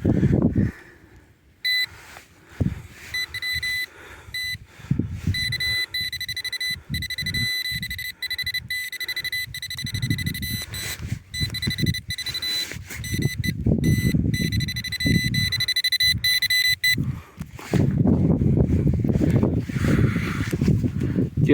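A Nokta Score 3 metal detector sounds repeated electronic signal beeps and steady tones outdoors while digging, close and fairly loud, alongside rustling and handling noise.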